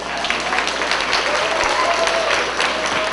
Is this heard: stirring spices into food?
no